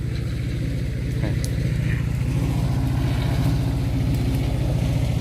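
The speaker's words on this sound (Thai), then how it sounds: "ตรงกลางล่องเอารถไถมาปั่นแล้วเขาเอารถไถมาปั่น" A tractor tilling an avocado orchard in Israel chugs steadily nearby, a continuous low throbbing drone at constant speed, with faint scattered noises above it.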